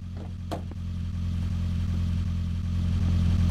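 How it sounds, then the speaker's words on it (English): Rough, uneven car engine from The Long Drive video game, a steady low rumble that swells and holds loud throughout, with a couple of brief clattering knocks early on. "The car doesn't sound so great."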